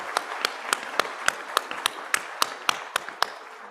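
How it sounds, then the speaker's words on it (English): Crisp, evenly spaced hand claps ring out close by at a summit plenary session, about a dozen in a steady, unhurried rhythm. "Give a big round of applause for RRR and Elephant Whispers."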